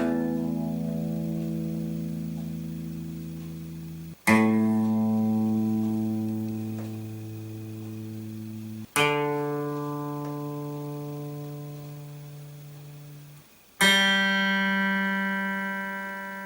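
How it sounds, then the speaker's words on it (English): Four single guitar strings plucked one at a time for tuning, each left to ring and slowly fade for about four seconds before the next, stepping higher in pitch, clear and unaccompanied. "if I give you a quick run through of the strings so you can"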